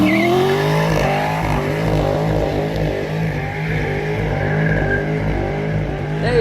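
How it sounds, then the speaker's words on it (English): An Australian V8 car engine revs hard, with loud, rising and falling harmonic sweeps and squealing tires skidding across the surface. The sound is continuous and close, with no voices over it. "Aussie V8 for the win."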